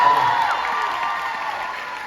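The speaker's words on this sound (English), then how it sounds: "Please clap louder" Audience applause at an influencer summit in a hall, a steady wash of clapping with some crowd noise running throughout at moderate loudness.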